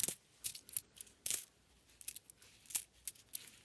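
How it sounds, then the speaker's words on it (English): Circulated pennies from hunted penny rolls clink and clatter as they are sorted by hand, in irregular bursts of bright metallic taps separated by short pauses, close and clear, with no voices. "sort through money that has been circulated"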